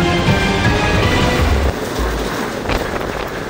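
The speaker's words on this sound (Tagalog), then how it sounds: "Ganito kalakas ang ulan at hangin na naranasan dito sa Iba, Zambales alas 3 sa madaling araw kanina." Loud, dense roaring noise of heavy rain and gusting wind from a typhoon in Iba, Zambales, at 3 a.m., buffeting the microphone, continuous and close, with no voices.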